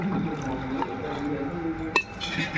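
Water poured by the cup into a cooking pot: a short liquid pouring splash with a couple of light clinks of the cup against the pot, close by.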